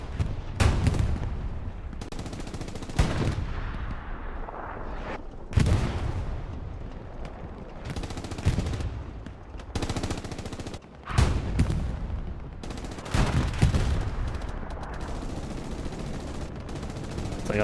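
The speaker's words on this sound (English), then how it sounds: "It's like a bomb run is coming down" Bomb run and gunfire in the video game Hell Let Loose: repeated heavy bursts and booming impacts with rattling fire between them, loud and dense for the whole stretch.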